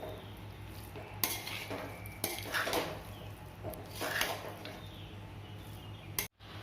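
Pasta gets stirred with salt and spices in a pan, with a spoon scraping and clinking at intervals over a low sizzle and a steady hum, close by.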